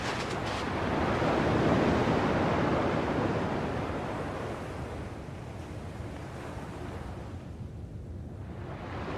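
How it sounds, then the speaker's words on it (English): Ocean surf in the video game Kingdom Hearts II, a steady broadband wash of breaking waves that swells early and then eases to a softer rushing hiss, with no voices. "At least the waves sound the same."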